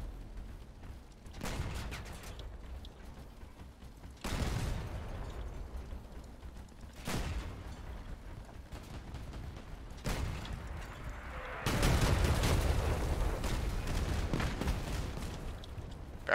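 Gunfire and explosive hits from the Crossout vehicle combat game come in about five separate heavy bursts, spaced a few seconds apart, each loud and booming before fading back to a low rumble.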